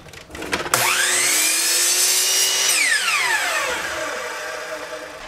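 A power saw whirs up to speed and cuts through wood set at a 45 degree angle, a loud high whine rising sharply, holding for a couple of seconds, then winding down.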